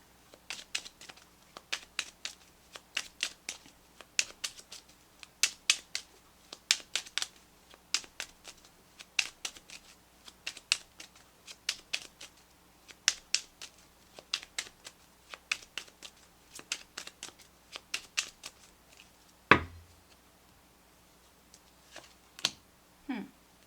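Tarot cards shuffled by hand in quick, crisp riffling bursts close up, repeating rhythmically, followed by a brief thump and a few lighter card sounds.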